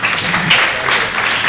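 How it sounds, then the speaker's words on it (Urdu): Audience applause at a naat gathering, steady broadband clapping from a crowd lasting throughout, fairly loud and close, with no clear voices over it. "تالیاں بجائیے نا بیٹا"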